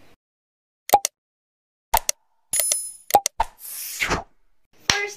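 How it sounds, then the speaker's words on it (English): A notification bell effect for a subscribe prompt: a few short, sharp dings and plops separated by silence, followed by a brief whooshing sweep and a final click. "press the notification bell for you to be updated with my latest upload"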